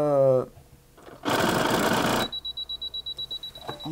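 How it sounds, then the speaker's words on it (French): A sewing machine runs in a short burst with a rattling shake, then a rapid series of high beeps sounds as it shows an E6 error; a voice is briefly heard beforehand. "ça tremble, ça bip, et je suis sur une erreur E6"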